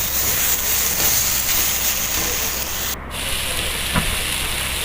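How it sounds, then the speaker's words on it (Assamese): Tomatoes and onions fry in a pan for butter chicken, giving a steady, even sizzling hiss that carries on without a break and with no talk. "ভালদৰে ভাজি ল'ব যাতে বিলাহী আৰু পিঁয়াজখিনি অলপ গলি যায়"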